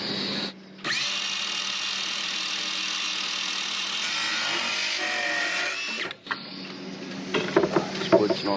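A power tool whines steadily through boat floor timber during a sailboat rebuild, loud and close, cutting out briefly then resuming with clattering knocks and rattles near the end.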